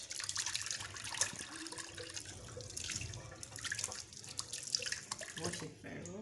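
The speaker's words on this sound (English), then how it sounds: "wash it very well" A cleansing brush being rinsed under a running sink tap, with a steady splashing water stream and some dripping throughout, and faint voice-like sounds mixed in.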